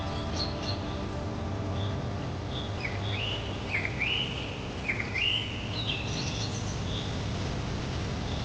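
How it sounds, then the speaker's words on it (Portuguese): Harsh, squawking macaw calls ring out in scattered bursts over a steady rainforest hum, moderately close, with quieter chirps between them. "araras coloridas batem as asas e chamam seu bando, seus gritos ecoando pela floresta"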